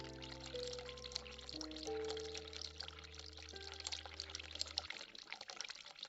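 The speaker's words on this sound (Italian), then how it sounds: "Apri l'acqua fredda." Water pours from a cold tap in the horror adventure game The Cat Lady, a soft hissing stream under sustained low synth music tones, with no one speaking.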